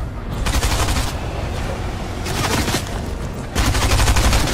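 Loud bursts of rapid gunfire from the video game Fortnite, with several dense volleys in close succession and a short pause between them.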